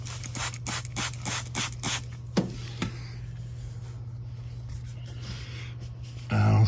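A handful of quick, sharp spray bursts of leak-test solution onto a brass gas-line fitting on a 1964 Airstream Globetrotter trailer come in a rhythmic run, then a couple more isolated puffs, over a steady low hum.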